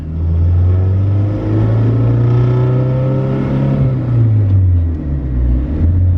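A Honda Civic with a swapped Type R engine runs on a dyno, its engine droning loud and close as the throttle is blipped, pitch climbing into a rev and then falling back toward idle.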